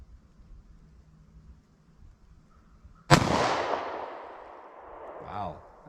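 A single sharp gunshot from a 9mm Sig Sauer Elite Defense subcompact pistol fired at an outdoor range, loud and close, followed by a long rolling echo that fades over a couple of seconds, with faint background noise before the shot.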